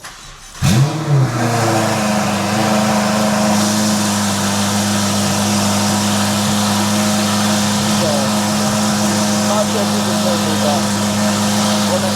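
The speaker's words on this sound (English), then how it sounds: "I think they said it's called a Valvetronic exhaust. So it's really loud." A Ferrari F8 with a Valvetronic exhaust starts with a sharp flare, then holds a loud, steady engine drone nearby for about ten seconds, with a voice speaking over it.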